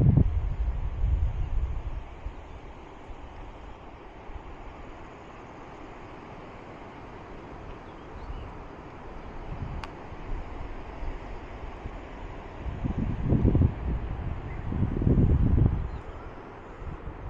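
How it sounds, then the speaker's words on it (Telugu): A waterfall in the Araku hills roars as a steady wash of rushing water mixed with wind, with low gusty surges near the start and again toward the end. "ఆ వాటర్ ఫాల్స్ సౌండ్ ఒక్కసారి వినండి మీరే."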